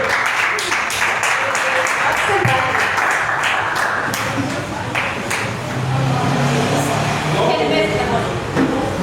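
A church congregation applauds, a dense wash of clapping that swells and continues for several seconds while a preacher talks loudly over it in a reverberant hall.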